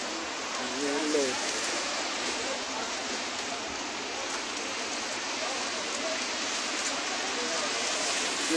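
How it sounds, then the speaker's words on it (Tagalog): Hail falls steadily during a hailstorm in Dammam, a dense continuous patter of ice striking surfaces, loud and unbroken. A voice speaks briefly under it near the start. "Yung hailstorm na yan."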